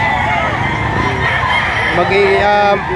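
A Boston sweater gamecock for sale at a busy poultry market crows loudly and close near the end, over steady background clucking and mixed voices of people talking.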